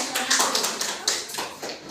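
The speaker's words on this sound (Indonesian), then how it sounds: "Jadi tepuk tangan untuk temannya." A school class claps for a classmate in a short burst of quick, uneven clapping heard up close, with no voices over it.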